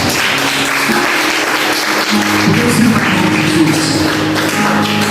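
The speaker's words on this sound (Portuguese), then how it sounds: "Aplauda Jesus bem forte." A church congregation claps together in steady, dense applause throughout, loud and continuous, with a low hum of voices and organ-like tones underneath.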